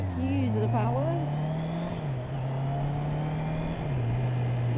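A learner's car on a motorcycle-training road accelerates away from traffic, its engine droning steadily and shifting pitch twice as it pulls through the gears, up close, with a voice speaking briefly at the start.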